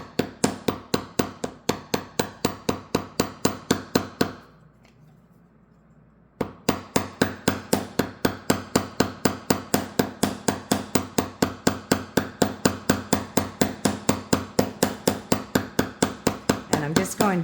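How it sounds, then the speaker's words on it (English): A hammer steadily tapping wire on a hammering block, loud sharp strikes in a fast even rhythm, pausing for about two seconds before resuming at the same pace. "And I'm hammering the arc."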